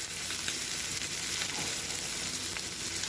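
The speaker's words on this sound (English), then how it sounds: "While those are frying up" Bacon-wrapped sliders sizzle and crackle steadily in a hot pan, a constant close frying hiss.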